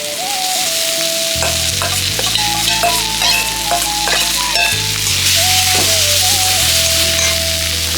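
Fried dried kachki fish tipped back into a hot pan of frying ingredients and stirred, with loud continuous sizzling, scraping and metallic clinks of the spatula against the pan, plus a faint steady whine.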